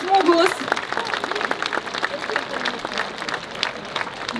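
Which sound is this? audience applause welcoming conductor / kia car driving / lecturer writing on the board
audience applause welcoming conductor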